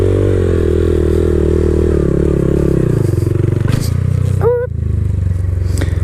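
A Honda Grom motorcycle engine holds a steady, loud idle-to-midrange drone while balanced in a wheelie, dipping and shifting pitch as throttle and brake are feathered, with a brief squeal and clatter near the end.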